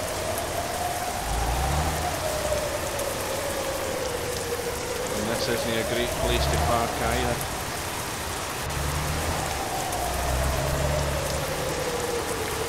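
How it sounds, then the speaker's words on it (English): Steady heavy rain in Euro Truck Simulator 2 hisses throughout, with a low truck engine hum drifting underneath, while someone speaks briefly over it. "It's now heavy rain we've got"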